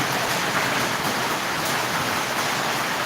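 Heavy rain pours down in a steady, dense hiss without pause, loud and close, with no voices over it.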